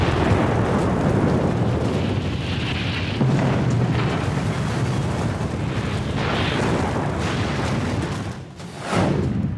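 A deep, sustained nuclear bomb explosion roar rumbles on continuously, dipping briefly near the end before surging again.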